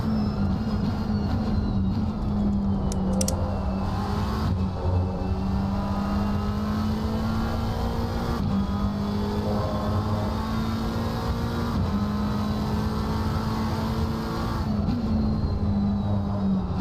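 Race cars in a sim racing endurance event at Imola, including a Porsche, drone steadily with a loud continuous engine tone that shifts pitch through gear changes, a sustained close mechanical roar with no talking over it.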